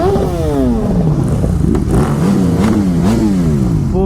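A Honda CBR 600 RR superbike on its stock exhaust revs loudly and close at an auto expo in Hyderabad, the engine pitch rising and falling in several quick blips.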